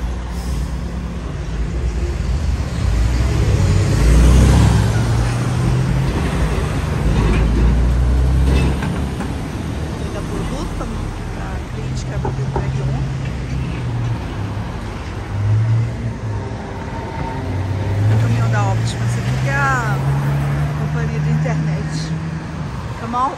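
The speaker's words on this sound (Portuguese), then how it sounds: "Olha o tamanho do caminhão." A large truck passes on a road, its deep engine rumble swelling and fading, with a hiss like an air brake and other traffic around; people talk over it throughout.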